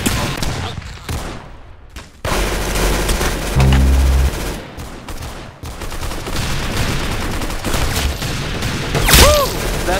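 Loud, close bursts of gunfire, rapid volleys and single sharp shots separated by brief lulls, with heavy booming blasts in a chaotic exchange of shooting.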